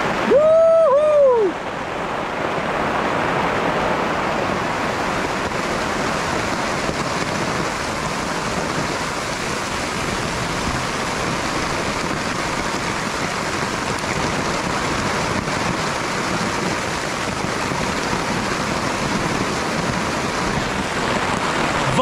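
Heavy mountain downpour of rain, a dense steady roar of falling water that stays loud and continuous throughout, with a brief higher tonal sound at the very start before the rain carries on alone.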